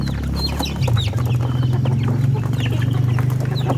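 Chickens cluck close by in a steady, busy chorus, with a low continuous hum beneath and no talking.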